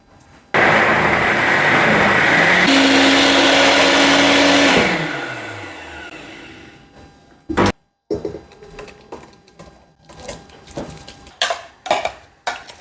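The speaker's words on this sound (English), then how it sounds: "So I'm going to blend it." Blender running loud for about four seconds, pitch shifting as it works through soaked beans for akara, then winding down, followed by scattered clinks and handling noises of kitchen utensils.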